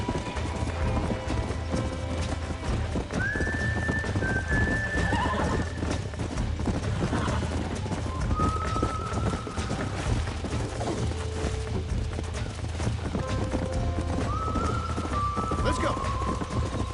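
A horse in the Red Dead Redemption video game clip-clops along at a steady pace and lets out several high whinnies, the hoofbeats continuous and close, with faint voices underneath.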